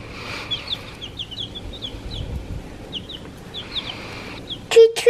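Soft, scattered chirps and clucks from several chickens at a moderate distance, with a sharper, louder call close by near the end.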